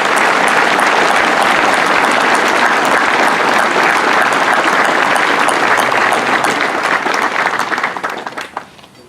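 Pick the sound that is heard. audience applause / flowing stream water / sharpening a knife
audience applause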